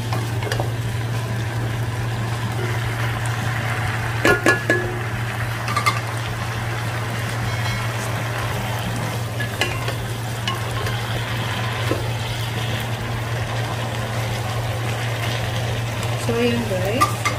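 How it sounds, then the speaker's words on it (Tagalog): Sautéed ampalaya (bitter gourd) with curry and a splash of water in a pan, a soft simmering sizzle under a low steady hum, with occasional scrapes and clinks of a spatula. "haluin natin siya ulit."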